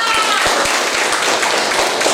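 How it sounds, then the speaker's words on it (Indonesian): Students in a classroom clapping for a group, dense rapid applause with distinct sharp claps, loud and continuous for a couple of seconds. "Tepuk tangan untuk kelompok 5"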